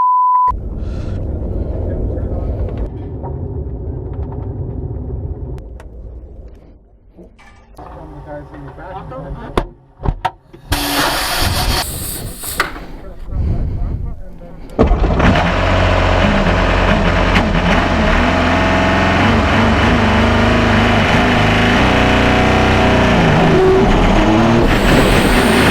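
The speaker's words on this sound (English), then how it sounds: "I'm driving the R18 on the handling circuit at Audi Sport's Neuberg Motorsport Competence Centre" An Audi R18 race car lapping the handling circuit at Audi Sport's Neuberg Motorsport Competence Centre, engine note loud and close inside, shifting and rumbling, with a brief quieter gap before a sustained, roaring surge of power to the end.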